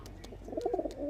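Teddy pigeons in a loft give a short run of soft, throaty coos that rise toward the end, close and fairly clear, with a few light clicks and rustles but no talk.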